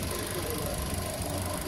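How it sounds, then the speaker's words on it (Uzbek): A car with a 1.5-litre gas-injected engine idles at a fuel station, giving a steady, close, even mechanical hum with no pauses and no talk. "Zapravka oldida motor ishlab turibdi."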